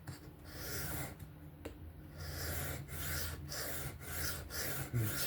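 A Kizer Mini Towser K knife blade in 3V steel being sharpened freehand on a stone, evening out the tip grind and bevel line. Soft, close rasping strokes repeat in a steady back-and-forth rhythm.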